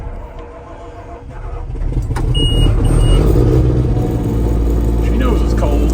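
A 548Giii skidder's diesel engine turns over in cold weather after its glow plugs cycle, the low rumble swelling and settling into a loud steady idle nearby.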